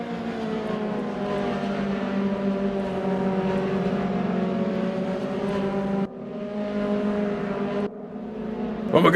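Mazda MX5 race car in RaceRoom at Zandvoort, an engine holding a steady droning pitch, broken by two sudden drops where it cuts out or shifts, then rising again near the end.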